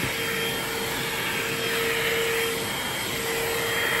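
TUSA mini cordless car vacuum cleaner running inside a car, a steady close motor whine with airy suction hiss and a thin high tone, continuous and fairly loud.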